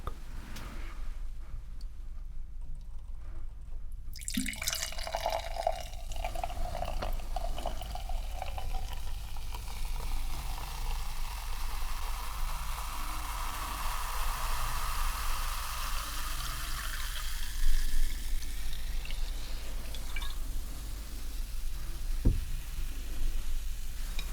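Cloudy, full-bodied cider is poured steadily into a glass at a bar, a continuous liquid rush lasting about fourteen seconds, close and clear with no talking.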